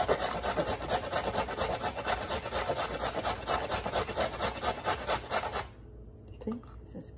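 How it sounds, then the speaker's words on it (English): Peeled ingredient scraped over the small holes of a fine grater in quick steady strokes, a close raspy scratching that runs for several seconds and then stops, leaving near silence. "Once it peeled, we have to grate them. I'm grating with the smaller ones."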